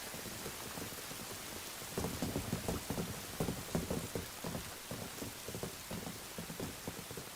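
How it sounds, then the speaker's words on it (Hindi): Steady rain falls with a constant hiss, with irregular heavier drops pattering on a nearby surface. "बारिश भी हो रही है"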